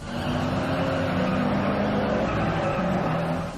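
Cars racing in the Need for Speed Underground 2 video game produce a loud, continuous engine roar with squealing, skidding tires, close up and without any voices.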